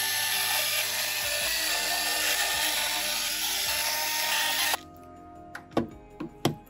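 Small electric screwdriver whirs continuously and close while backing screws out of a Sony PS5 Slim console board, then stops, followed by a few sharp clicks and taps of parts being handled.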